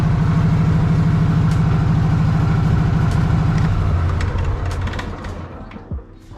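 A Cub Cadet riding lawn mower engine runs steadily and loud close by, with a low droning idle that drops in pitch and fades toward the end as it winds down.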